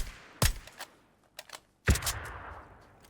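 VSS rifle fire in PUBG: two sharp, loud shots about a second and a half apart, each trailed by quick clattering echoes, with a few smaller clicks and impacts between them and no voices.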